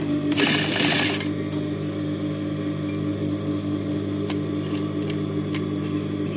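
Household sewing machine running a short burst of stitching along a slit opening in fabric, a quick close whirring run lasting about a second, followed by a steady mechanical hum with a few faint ticks.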